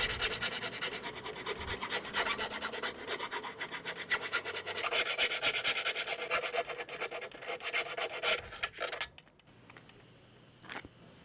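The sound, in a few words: file chamfering drilled holes in a mast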